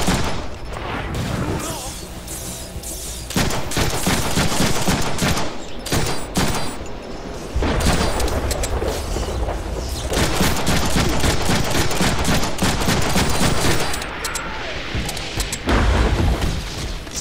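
Dense, near-constant bursts of gunfire and booming shots from the Deadpool video game, loud and unbroken, with brief dips between volleys.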